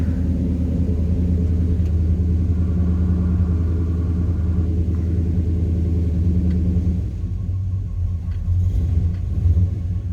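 A 1972 Chevrolet Chevelle two-door hardtop engine idles steadily just after starting, a loud, even low rumble that eases slightly partway through and holds alone without talk.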